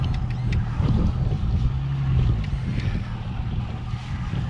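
A fishing boat's outboard engine drones steadily while cutting through heavy grass at trolling speed, a close, continuous low rumble with some wind and water noise on top, no talk.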